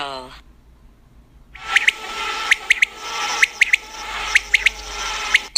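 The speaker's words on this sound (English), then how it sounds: "Quail." After a brief voice at the start, a quail calls with sharp repeated chirps over a busy bird-filled background, the notes coming in quick pairs and singles at fairly close range.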